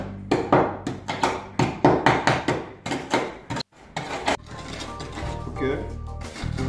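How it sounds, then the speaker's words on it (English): Charcoal ground into fine powder for black powder makes rapid, rhythmic, close pounding strikes, then a short pause and quieter grinding with a voice faintly audible. "I'm going to grind the charcoal into fine powder to increase the surface area"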